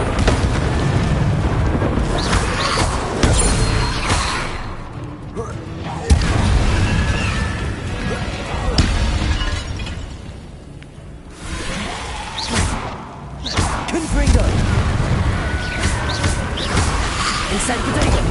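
Confringo exploding-spell blasts from the Hogwarts Legacy video game, several booming bursts with whooshing tails that recur at irregular intervals across the fight, loud and close amid continuous combat noise.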